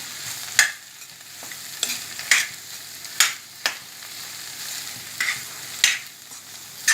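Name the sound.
mixing instant dosa batter with salt and coriander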